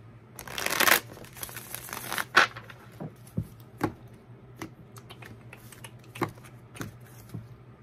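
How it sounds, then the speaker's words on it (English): A deck of tarot cards is shuffled by hand in two quick papery riffle bursts, followed by scattered soft taps and clicks as the cards are squared, all close and fairly quiet. "One more shuffle."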